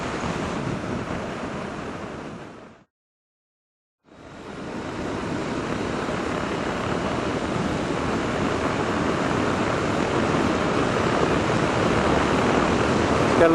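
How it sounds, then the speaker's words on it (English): Steady, loud broadband wind roar buffeting the microphone while riding a motorcycle at speed, building toward 75 mph, with a brief full dropout before the rushing noise returns and holds constant. "It's quite a fair bit of wind."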